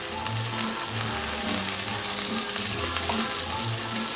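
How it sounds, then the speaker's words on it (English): Meat browns in bacon fat and flour for a South Louisiana boeuf en daube, giving a continuous sizzle with low background hum and a few faint clinks. "Meat cooking and bacon fat."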